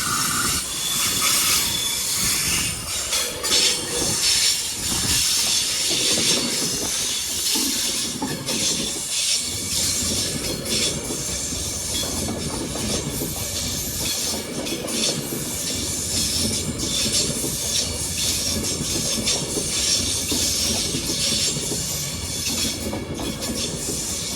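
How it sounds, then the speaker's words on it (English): Class 390 train 390 125 departing London Euston, a long continuous loud roar with hissing, wheel squeal and clickety-clack over the rails, close by and steady throughout, without voices. "390 125 is now departing for Glasgow Central."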